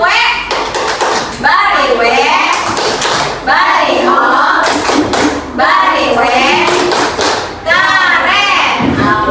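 Schoolchildren in an Indonesian classroom give a rhythmic clapping cheer, sharp hand claps and thuds in a patterned beat mixed with loud children's voices chanting along throughout.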